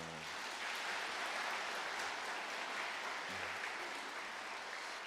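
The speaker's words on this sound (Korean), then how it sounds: "우리 박수하겠습니다" A church congregation applauds two retiring elders at their retirement service, steady soft clapping from the room that holds evenly throughout, somewhat distant and low in level, with a brief murmur of voices at the start.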